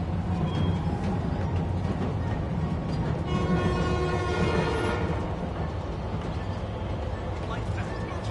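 Train rolling along elevated tracks in the city of Spider-Man Remastered on PS5, a steady rumbling roar with a horn-like tone swelling in the middle, heard over continuous background noise.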